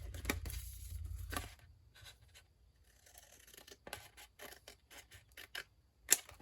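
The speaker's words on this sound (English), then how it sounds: "We're going to start off by cutting just the top" Scissors snip across the top of a paper envelope, a series of short, crisp, close cuts and rustles with uneven pauses and a sharper snip near the end.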